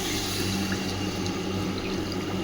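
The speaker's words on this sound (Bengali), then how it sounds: "আমি একটু গরম জল দিলাম।" Hot water is poured into a pan of mushroom curry, making a steady, continuous rushing and gurgling close by that lasts the whole moment without a break.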